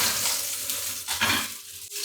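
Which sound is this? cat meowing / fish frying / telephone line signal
fish frying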